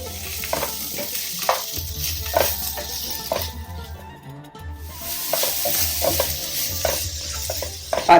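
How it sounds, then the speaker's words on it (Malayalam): Crushed ginger and garlic fry in a pan for a Thalassery biryani, with a steady close sizzle and repeated stirring scrapes and clinks of a utensil against the pan. "ഇനി ഞാൻ ഇഞ്ചി വെളുത്തുള്ളി ചതച്ചത് ഇടുക."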